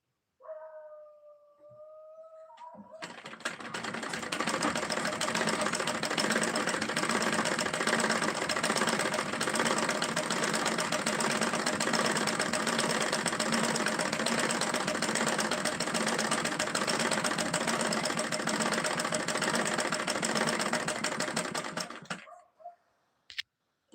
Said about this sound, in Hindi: दीदी आप सिलाई कर रही हैं क्या?